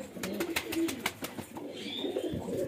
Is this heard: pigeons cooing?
yes